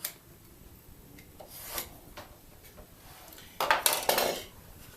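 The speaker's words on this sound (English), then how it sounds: "if you're going to remove wood, a knife will sever the fibers" A knife blade scores straight across the grain of a wooden board to mark a dado joint. Faint, close scraping strokes come at intervals, with a brief louder rasp near the end and no talking.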